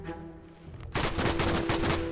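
Gunfire in the Garry's Mod game during an Axis versus Allies battle in France, loud and dense, starting abruptly after a quieter moment and continuing as a sustained volley.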